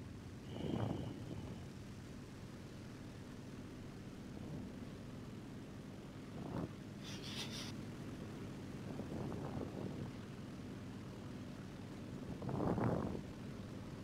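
Propeller plane flying in the War Thunder video game, a steady low engine drone held throughout with a few brief louder swells and bursts rising over it.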